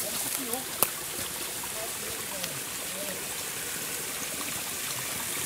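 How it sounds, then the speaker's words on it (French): Spring water from a captured mountain spring runs through a pipe toward the valley, a steady close trickle and splash, with a few faint knocks and a brief voice in the background. "Parce qu'on voit un tuyau là qui ramène l'eau vers la vallée."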